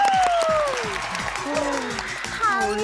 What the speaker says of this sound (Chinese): 帮自己拍拍手。